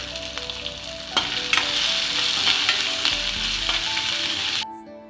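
Grated ginger sizzles and crackles steadily in hot tempering oil for Andhra-style lemon rice, a close, continuous frying hiss with occasional stirring clicks, no voices.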